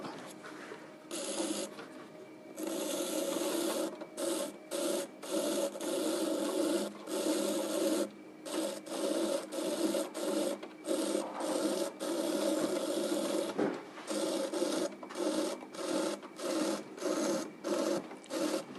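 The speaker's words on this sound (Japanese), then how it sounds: "こう迫ってくる土にね負けないように点を使って削っていきます" A tool scrapes and trims a 30 cm clay plate turning on an electric potter's wheel, giving a continuous gritty rasping with rhythmic pulses as the wheel turns, close and steady.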